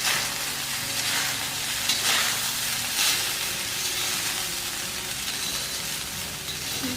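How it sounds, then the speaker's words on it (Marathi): Jeera rice with chillies stirred in a pan over a high flame: a constant loud sizzle and hiss with soft scraping strokes of the stirring running throughout, no talking. "मोठ्या गॅसवरच आपल्याला भात हा हलवून घ्यायचा"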